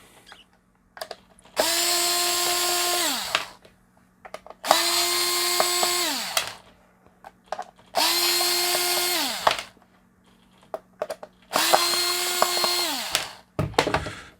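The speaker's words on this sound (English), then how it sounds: "first thing we'll do then is we'll remove the screws." Electric power screwdriver backing screws out of a device, four separate whirring bursts of about two seconds each with a pitch that drops as each one stops, separated by quiet gaps and small clicks.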